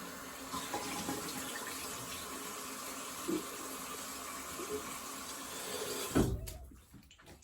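A CV Heljestrand MK No31 straight razor rinsed under a running tap: a steady close hiss of flowing water that cuts off near the end, leaving brief clicks and handling noises.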